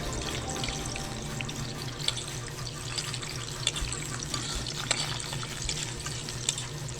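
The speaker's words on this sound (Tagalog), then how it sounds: "maglalagay na po tayo ng bawang." Garlic fries in a pan of oil for a shellfish dish, a steady crackling sizzle with scattered sharp pops, close and continuous with no voices.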